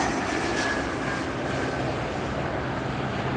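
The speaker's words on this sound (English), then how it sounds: "Here comes the American Eagle E-Jet coming in for landing" An American Eagle E-Jet airliner coming in to land at LAX, a steady roaring jet engine drone that stays broad and continuous, with no voices.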